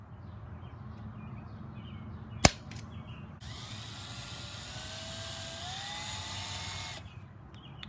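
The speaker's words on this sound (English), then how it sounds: "drill a hole through the hoop" A power drill bores a hole through a motorcycle seat hoop in a steady whine lasting several seconds before stopping abruptly, preceded by a single sharp clack and a quiet, low-humming room.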